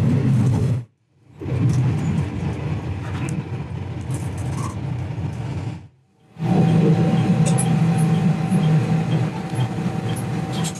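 A train pulling out of Ichijōdani Station in Fukui, a steady low rumble of rolling wheels and motor with brief gaps, continuous and fairly close with a faint tonal hum.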